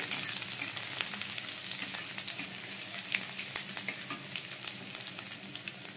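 Tomato dropped into a hot pan with garlic and chopped chilli for baked eggplant bharta, a soft continuous frying hiss with scattered crackles and spatula taps, fairly quiet and steady, no voices.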